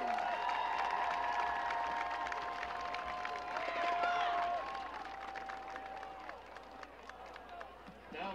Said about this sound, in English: Please give a big round of applause for all of these senior Marching Eagles